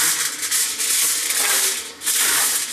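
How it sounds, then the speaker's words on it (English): Vegan sausage dough being divided by hand, a steady soft rubbing and squishing that runs close and continuous, briefly easing before resuming, with no voices. "I'm going to divide the dough in half with my hands"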